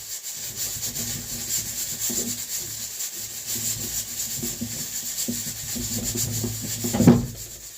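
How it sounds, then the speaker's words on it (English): A knife cuts fish into small pieces, producing repeated rough scraping and rubbing strokes at close range, with a slightly louder scrape near the end and no talking. "So I'm going to cut the fish them smaller, how me want them, right?"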